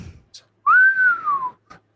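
A single clear, sustained whistle rises then slowly glides downward, loud and close, framed by faint clicks before and after.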